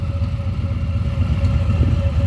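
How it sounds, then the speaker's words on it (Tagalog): A motorcycle engine runs steadily at a low idle, an even, throbbing hum that holds close and unbroken throughout with no voices. "hindi mamamatay yan kasi malakas yung makina"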